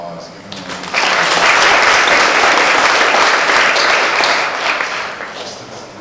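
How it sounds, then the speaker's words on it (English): An audience at an academic presidential presentation breaks into loud, full applause after brief talk, holding strong for several seconds and then easing slightly toward the end. "I thank Dr. Wallace for giving a round of applause"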